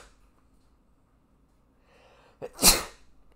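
One loud, sudden sneeze bursts out after a short inhaled buildup, close to the microphone, against an otherwise quiet background.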